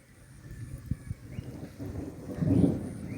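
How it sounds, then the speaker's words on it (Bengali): Thunder rumbling from the sky during village rain amid flooding, low distant rolls with a few soft thumps and a heavier swell near the end, faint and alone. "এখনো আকাশ থেকে মেঘ গর্জন করছে।"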